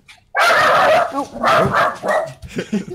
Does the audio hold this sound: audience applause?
no